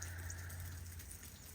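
Steady, faint rain from the remnants of a hurricane falling on a ranch in September: an even hiss with a low background hum and no voices.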